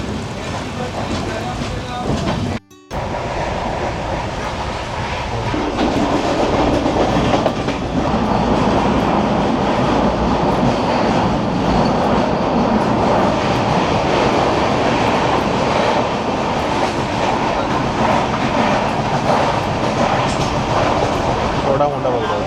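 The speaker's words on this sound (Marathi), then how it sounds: "ट्रेनचा भोंगा वाजला म्हणजे आपली ट्रेन सुटणार आता." A Konkan Railway passenger train from Panvel to Ratnagiri during monsoon rain makes a loud, continuous rumble and clatter of moving carriages, with a brief dropout near the start before the noise resumes steadily.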